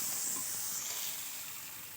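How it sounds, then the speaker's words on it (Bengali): Eggplant frying in oil left from frying fish, a soft steady sizzle and hiss at low volume, fading slightly, with no talking. "এবার বেগুনগুলো সেই মাছ ভাজার তেলেতে দিয়ে ভাজবো"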